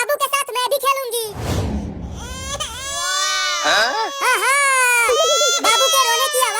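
A newborn baby cries loudly and close, a string of wailing, strained sobs with a brief noisy break early on, heard alone with no talking over it.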